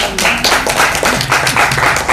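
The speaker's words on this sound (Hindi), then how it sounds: "बहुत अच्छा, ताली बजाइए।" An audience at a Kalam talk event in Bhubaneswar claps, a steady wash of many hands across the whole stretch.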